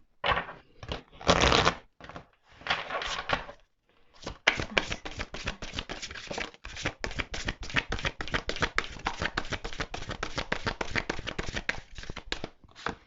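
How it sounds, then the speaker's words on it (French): Tarot cards are shuffled in loud riffling bursts, then a long run of quick, crisp slaps and flicks, all close and without talk. "Je suis désolée pour le claquage des cartes"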